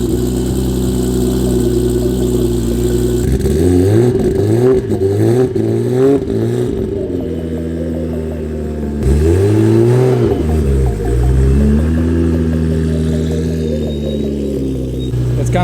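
A Honda Del Sol engine idles close up, then revs repeatedly in sharp bursts, settles back, and surges again into longer, rising revs.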